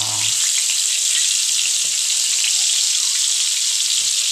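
Chicken pieces deep-fry in oil over medium heat, giving a loud, continuous close-up hiss and crackle with a few soft knocks near the start.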